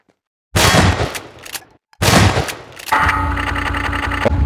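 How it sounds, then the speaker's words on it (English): Grab gun firing in a video game: two loud bursts of rapid shots separated by a short gap, then a sustained buzzing mechanical whir with a high whine, close and prominent. "Just shoot me with a grab gun."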